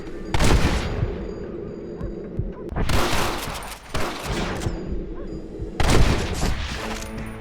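Repeated bursts of gunfire from a Red Dead Redemption shootout, three loud volleys separated by brief lulls, with sharp cracks and rolling echo between them.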